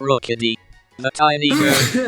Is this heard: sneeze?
yes